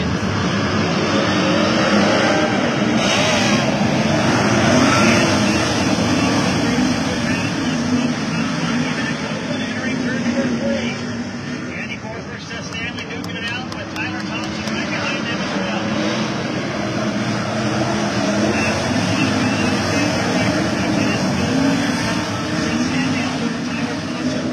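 Sprint cars of the Elk Grove Ford Sprint Car Challenge Tour race around Coos Bay Speedway, a steady loud engine roar with dense crowd-and-track noise throughout and no break.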